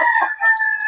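A single rooster crows nearby, one short clear call with a rising and falling tone.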